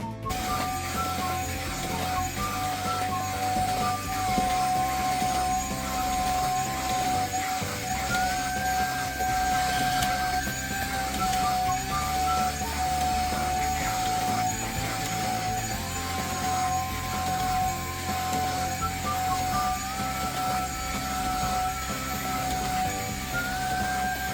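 An 8-in-1 pet grooming kit for cats and dogs running with its detangling attachment: a steady, loud motor hum and whine that holds unbroken throughout, with slight pitch shifts and no talking.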